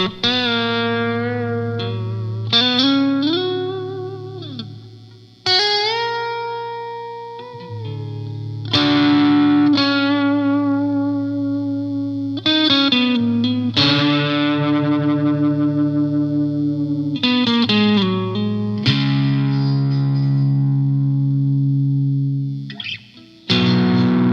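Electric guitar through a tube practice amp on a British dirty setting with compression and light reverb, playing loud sustained chords and riffs with pauses between phrases, no voices.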